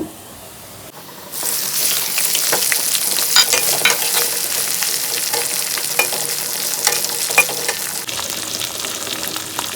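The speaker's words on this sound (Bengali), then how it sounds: "তেলের মধ্যে এখন মাছগুলো দিয়ে দিব।" Fish fried in hot oil with cumin and chopped garlic, with a sudden loud sizzle as the pieces go in, then a steady dense crackle with small pops throughout.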